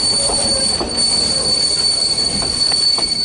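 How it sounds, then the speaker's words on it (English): A CP/CPKC freight train brakes with its air brakes as the tail end nears a crossing, steel wheels giving a steady high-pitched squeal over continuous rolling rumble and faint clicks, close and loud with no talk. "He's got his air brakes on"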